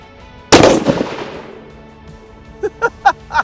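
Steyr SSG 08 rifle chambered in .338 Lapua Magnum fires a single loud, close shot with a long decaying echo across an outdoor range, followed by a few faint voices.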